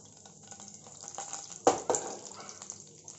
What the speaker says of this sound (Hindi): एक पैन के अंदर हमने 2 टेबलस्पून ऑयल लिया है और इसके अंदर डाल देते हैं हम अपनी जीरा